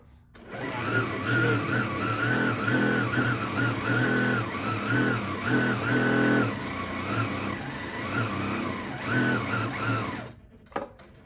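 A Handi Quilter Amara longarm quilting machine stitches in regulated mode, giving a close, steady motor whine with a fast, rhythmic whirr that rises and falls for about ten seconds and then stops.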